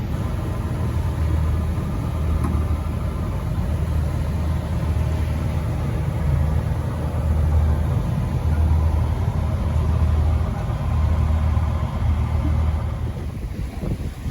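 A sailboat's engine running offshore near Cape Hatteras, a steady low droning rumble that holds evenly throughout, loud and close with no voices.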